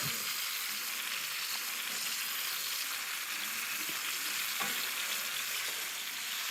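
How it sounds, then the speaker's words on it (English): Tomato paste caramelizes in olive oil in a pan, giving a continuous, even hiss of frying that stays close and steady, with a couple of faint clicks and scrapes surfacing briefly, no one speaking. "on the side, I'm gonna caramelize the tomato paste"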